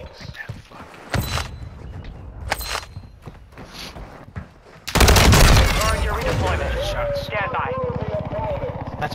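Gunfire in a Call of Duty video game: sparse sharp shots early on, then a loud sustained burst of rapid automatic fire with game effects, while a voice talks over parts of it.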